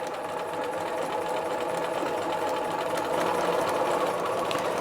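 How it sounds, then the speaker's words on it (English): A sewing machine runs steadily, stitching along the top edge of a dress hem facing, a continuous even whir held close with no talk. "I'm just going to start stitching along this top edge"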